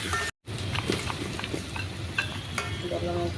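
Pumpkin for a sweet sizzles and is stirred in a pan, giving a close, busy frying crackle with scraping and occasional sharp ticks after a brief silent gap at the start, with no voices.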